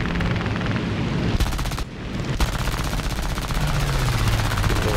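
The machine guns of an I-16 fighter plane in the War Thunder video game fire in long, dense rattling bursts, loud and close, with a brief pause midway over a constant engine roar.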